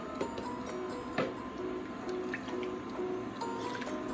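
Four cups of water pour into a pot of pollo guisado with cilantro leaves, a faint liquid trickle with light drips and ticks over a low kitchen hum.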